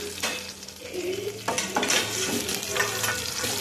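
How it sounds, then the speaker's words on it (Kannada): Green chillies fry in hot oil in a pan, giving a steady close sizzle with stirring scrapes and light clinks of a utensil, with no voices. "ಮೆಣಸು ಎಷ್ಟು ಚೆನ್ನಾಗಿ ಫ್ರೈ ಆಗುತ್ತೋ ಅಷ್ಟು ಚೆನ್ನಾಗಿ ಮಸಾಲ ಸ್ಮೆಲ್ ಮತ್ತು ರುಚಿ ಬರುತ್ತೆ"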